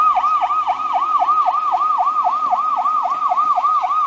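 An ambulance siren wailing in a fast, regular yelp pattern, loud and close, repeating about four cycles per second with nothing else heard.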